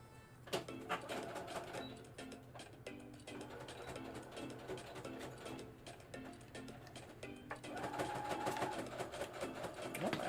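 Sewing machine stitching a puppet, a steady mechanical whir with rapid rhythmic needle clatter running throughout, close and fairly loud, with short pauses and a busier burst near the end.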